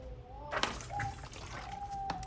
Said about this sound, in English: I need a sip of water real quick